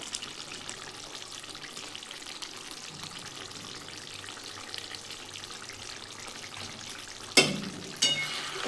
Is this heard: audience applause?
no